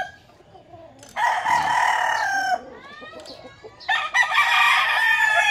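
At a small poultry farm, chickens and roosters, including a stag, crow loudly and close in two long bursts with softer clucking in between and no talk.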